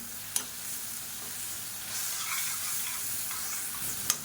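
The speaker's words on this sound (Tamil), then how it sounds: "இது எல்லாத்தையும் நல்லா வதக்கி வச்சுக்கலாம்" Tomato masala with turmeric and chili powder sautéing in a pan, a steady frying sizzle with a couple of sharp stirring clicks from a spoon, heard alone and close.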